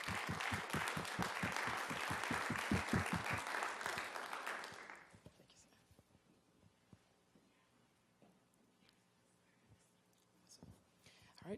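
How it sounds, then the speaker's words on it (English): A seated audience at an agricultural education panel gives brisk, close applause that fades out after about five seconds, leaving a quiet room with faint shuffling. "Let's give them a round of applause"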